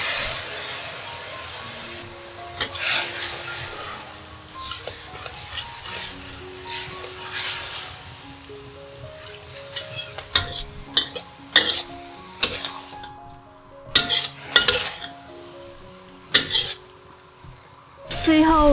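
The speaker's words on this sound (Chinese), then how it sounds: "放入米粉，翻炒均匀。" Rice vermicelli with dark soy sauce is stir-fried in a pan. A spatula scrapes and clinks against the pan in quickening, irregular strokes over a soft sizzle, with background music underneath.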